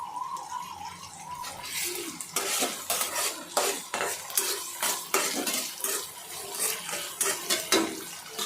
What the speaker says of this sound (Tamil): இப்போ இந்த வெங்காயம் எல்லாத்தையும் நம்ம கலரி விட்டுக்கலாம்.